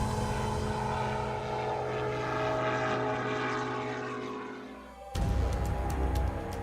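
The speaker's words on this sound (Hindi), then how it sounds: "हेरॉन मार्क 2 सैटेलाइट से नियंत्रित होने वाला ड्रोन है" A Heron Mark 2 satellite-controlled military drone flies past with a continuous propeller-engine drone, steady and fairly loud, then shifting abruptly to a rougher, lower roar near the end, with no voices.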